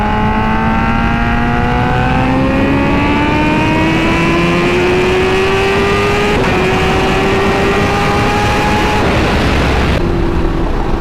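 A Kawasaki H2R motorcycle engine revs loud and close on a slow run, pitch climbing steadily through the gear, dipping briefly at a shift, then rising again before backing off.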